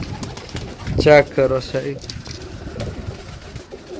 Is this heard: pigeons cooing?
yes